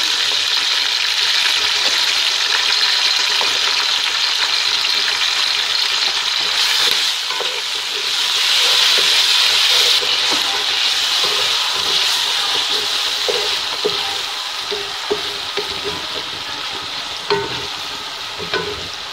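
Ginger garlic paste and peas fry with browned onions in a pot as a steady, loud sizzle and hiss that runs throughout, with scattered stirring scrapes and clinks near the end.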